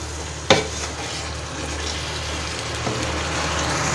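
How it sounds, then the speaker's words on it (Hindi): Kachnar buds frying in spices in a pan, a continuous close sizzle with a sharp clank of a utensil near the start and a softer scrape later, no voices. "मसाले में फ्राई करेंगे।"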